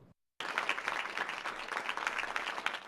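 Dense applause from a group greets Ebola nurse Amber Vinson as she leaves Emory University Hospital in Atlanta; the clapping begins abruptly after a brief gap and continues steadily at moderate volume.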